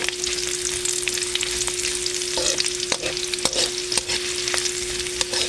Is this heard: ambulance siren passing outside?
no